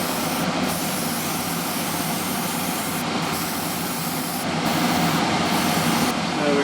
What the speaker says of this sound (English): Goes on very easy with the airbrush